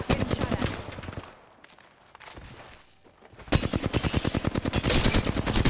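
Rapid bursts of automatic gunfire in an Apex Legends match, loud and dense at the start, dropping to a quieter lull, then resuming as sustained close-range rapid fire to the end.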